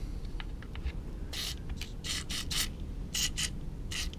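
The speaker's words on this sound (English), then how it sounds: "Let's give a bit of a WD-40 squirt up because it is a bit corroded in here." Short hissing spray bursts from a can of WD-40 aimed into the corroded pull-cord housing of a generator, several separate squirts in close succession over a low background rumble.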